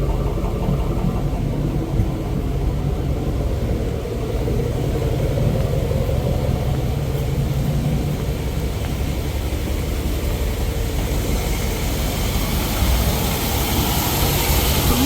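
An old, junk, rusted garage motor running quietly, a steady low hum and drone that holds evenly throughout with no voices.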